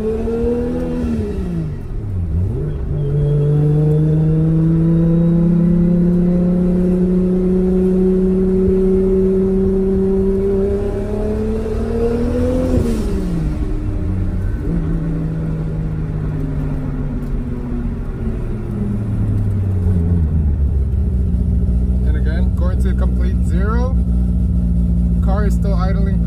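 A car engine idles and revs close by, its pitch climbing and falling in long sweeps before settling back to a steady idle, with a voice talking over it near the end.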